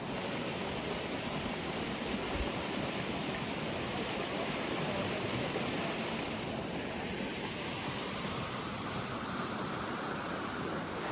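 Steady, broadband rushing of a mountain stream near the foot of a hill, continuous and fairly even throughout with no voices, flowing water filling the whole stretch.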